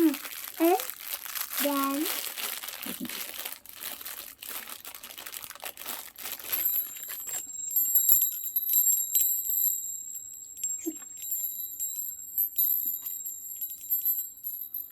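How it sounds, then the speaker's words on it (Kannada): Bright metallic chimes of a newly bought wind chime ring out in overlapping tones, with crinkling packaging and a voice early on, then sustained clear ringing notes lingering alone. "ಫಸ್ಟ್ ವಿಂಡ್ ಬೆಲ್ ತೊಗೊಂಡು ಬಂದಿದ್ದೀನಿ"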